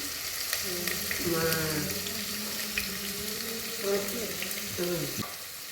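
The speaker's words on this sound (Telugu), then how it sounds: "ఉల్లిపాయ పచ్చిమిరపకాయ వేస్తున్నానండి" Chopped onions and green chillies frying in a pan for mutton kheema, a continuous sizzle with a tonal, watery hiss that rises and falls, close and moderately loud, with no clear talk.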